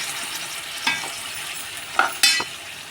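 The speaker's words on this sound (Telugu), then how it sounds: "ఇప్పుడు మన చికెన్ వేసేద్దాము చూడండి ఇది రెండు కేజీల చికెను వేసేసి చక్కగా ఇలా ప్రాపర్గా కలిపేసేద్దాం" Two kilograms of country chicken stirred in a frying pan, a steady sizzle with a few sharp scrapes and clanks of the spoon against the pan near the end.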